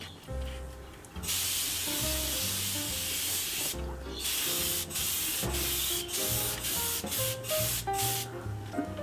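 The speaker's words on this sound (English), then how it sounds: "Doing the dance of the spray gun." Bursts of hissing spray from a spray gun applying finish to a wooden box start and stop repeatedly, close and loud, over a steady background of music.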